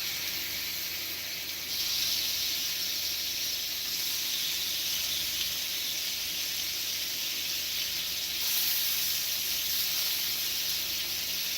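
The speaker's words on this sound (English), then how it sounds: "So I'm gonna put these bad boys on so they can start sizzling." Fish and shrimp sizzle in a hot pot, a steady close hiss that swells after a couple of seconds as the food goes in and stays constant, with no one talking.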